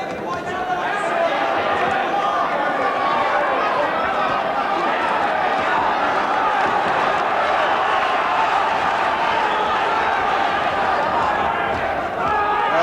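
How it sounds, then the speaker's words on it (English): A boxing crowd roars in support of McAuley at a flyweight bout, a dense sustained wall of cheering and chatter with a voice talking over it. "the crowd getting behind McAuley"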